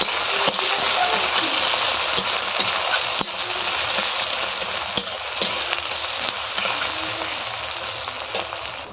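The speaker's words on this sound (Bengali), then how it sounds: "তেজপাতা, জিরে ফোড়ন দিয়ে পেঁয়াজটা ভেজে নেব" Onions sizzle in hot oil with bay leaf and cumin seeds, a steady dense crackle running throughout with occasional sharper pops, while voices talk over the cooking at an outdoor picnic.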